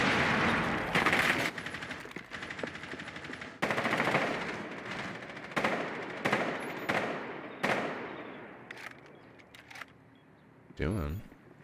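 Bursts of rapid video game gunfire, including a prone shooter, rattle in repeated loud volleys separated by short gaps, with single shots and a closing burst near the end.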